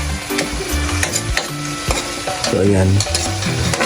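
Argentina-brand corned beef is stirred and fried in a pan, with steady sizzling and repeated scraping strokes of a utensil close by, and a voice says a few brief words.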